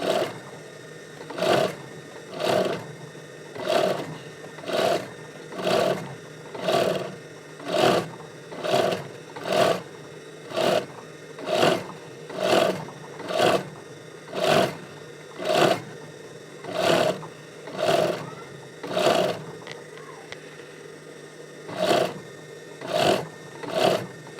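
A sewing machine stitches a bag handle in rhythmic bursts, about twenty evenly spaced whirring runs with short pauses between them, loud and close, with no voices.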